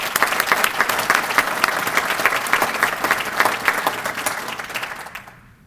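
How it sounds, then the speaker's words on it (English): An audience at a county economic development annual meeting claps steadily in a dense, even round of applause that fades out near the end. "let's please give J.M. Hutton a round of applause."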